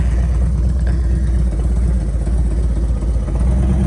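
Motorcycles ride over rough ground on the way to the Death Highway, a steady, loud low engine drone with clattering mechanical texture filling the whole stretch, with no talking.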